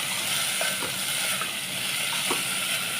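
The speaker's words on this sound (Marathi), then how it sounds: "मटकी टाकून हलवून घेते छान व्यवस्थित." Moth beans stirred into hot oil with onion, frying with a steady, close sizzle throughout and soft scraping clicks from the stirring spoon.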